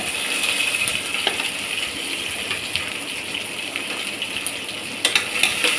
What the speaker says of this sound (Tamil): வெங்காயம் கருவேப்பிலை பச்சை மிளகா போட்டு நல்லா வதக்கிக்கோங்க